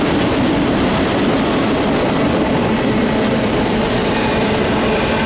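A freight train rolls past close by in Fullerton, a loud continuous rumble of wheels and cars on the rails with faint metallic squeals, no voices.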